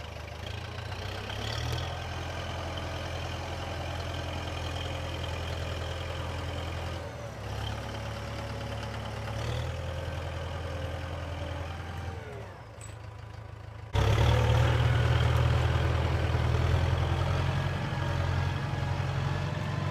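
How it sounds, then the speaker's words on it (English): A tractor engine idles with a steady low rumble while pulling out a stalled vehicle, holding even for several seconds, then jumping louder and heavier near the end as the load is taken. "So now I'm pulling it out with the tractor."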